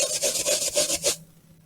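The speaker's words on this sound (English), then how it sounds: "I'm going to rub the balloon." A balloon is rubbed on a sweater in about six quick back-and-forth scrubbing strokes, a close, dry rasping sound that stops after a second.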